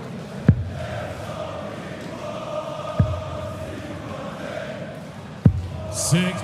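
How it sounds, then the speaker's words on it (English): Darts arena crowd at the 2025 European Darts Open during Stephen Bunting versus Woodhouse, a steady rumble of chanting voices with a few sharp thuds of darts hitting the board and a lone shout rising near the end. "crowd chanting Stephen Bunting's name."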